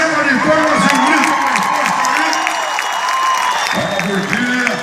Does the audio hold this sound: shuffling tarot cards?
no